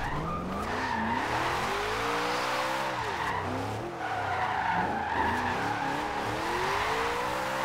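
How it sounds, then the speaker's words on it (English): A supercharged V8 car drifts in the racing game Forza Horizon 2, its engine note rising and falling with revs beneath a continuous loud tire squeal, close and sustained with no talking. "That monstrous V8 with a supercharger sounds so nice"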